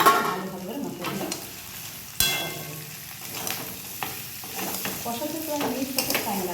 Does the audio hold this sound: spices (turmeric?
yes